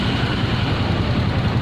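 Close, steady low rumble of a Suzuki Shogun 125 motorcycle engine running just after being started with the starter, alone without talk.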